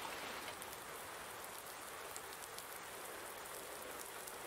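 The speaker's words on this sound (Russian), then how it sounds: "И дождик прошел." Steady rain in Farming Simulator 19, a dense, even hiss of falling drops with no talk, continuous and fairly faint throughout.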